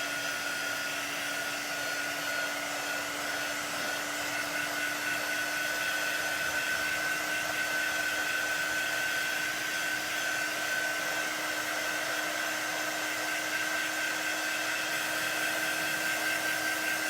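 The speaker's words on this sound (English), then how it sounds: "so let me hit these with the dryer" A hair dryer blowing steadily on freshly applied chalk paint, a loud, continuous whooshing motor drone with a constant whine that runs unchanged throughout.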